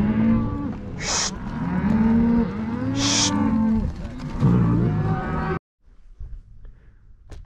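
A cow on a ranch lowing in long, loud, close moos that run together for several seconds, then cut off abruptly into quiet outdoor background.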